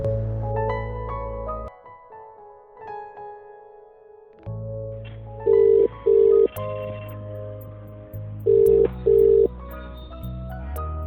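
A phone call rings out unanswered, its loud electronic ring tone sounding in two pairs of sharp beeps over a steady tonal melody and hum.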